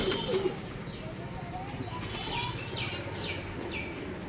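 Madras breed pigeons coo in low, repeated murmurs from a cage, with a few chirps and rustles over a steady background.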